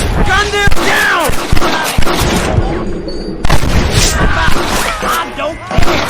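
Gunfire and booming shots crack repeatedly in a Red Dead Redemption shootout, loud bursts at irregular intervals mixed with shouting voices and chaotic action.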